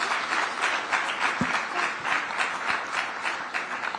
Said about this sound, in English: I think this calls for a round of applause.